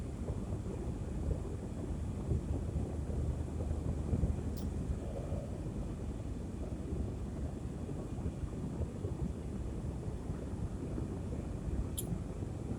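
A car driving, heard from inside the cabin: a constant low road and wind rumble at moderate level, with no talk and only two tiny clicks.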